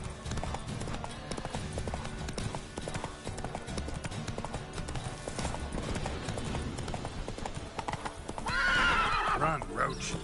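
Roach the horse in The Witcher 3 gallops with fast, steady hoof clip-clops over continuous game sound, then gives a loud rising neigh near the end.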